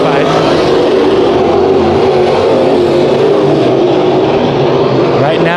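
Modified race cars roar around the Bakersfield Speedway oval in a heat race, engines loud and continuous with a steady rising and falling drone throughout, while an announcer talks over the racket.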